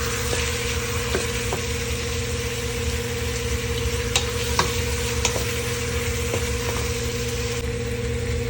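Canadian scallops and whelk sautéing together in a pan with garlic and onion, a low steady sizzle under a constant engine-like hum, with a few scattered clicks and clinks of a utensil against the pan.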